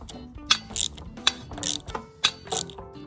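A socket ratchet works loose tight bolts on the carburetor of a 5.5 HP Briggs and Stratton small engine, giving close, loud bursts of rapid pawl clicking that repeat in a steady back-and-forth rhythm.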